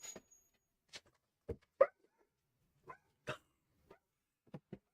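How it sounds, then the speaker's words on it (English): Dogs bark in short separate bursts, roughly eight sharp woofs and yips spread irregularly over five seconds, fairly close and moderately loud with silence between them. "shut up, dogs."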